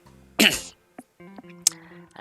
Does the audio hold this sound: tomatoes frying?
no